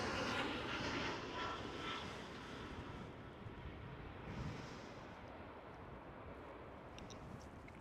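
An Aer Lingus Airbus A320 at Amsterdam Schiphol gives a broad, steady jet-engine rush with wind buffeting the microphone, loud at first and slowly easing off, with no voices.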